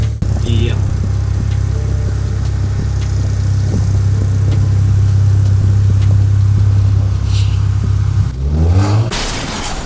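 A BMW 335xi sedan engine drones steadily at close range during a drive-by, then revs up sharply near the end with a rising exhaust roar.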